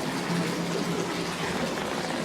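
Water streaming steadily from a double fountain at Rila Monastery in Bulgaria, a constant, close splashing gush with no pauses.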